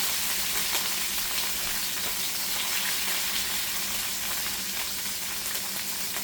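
A pot roast sears in a hot pan, giving a steady, moderately quiet sizzle and crackle that continues evenly throughout with no voices.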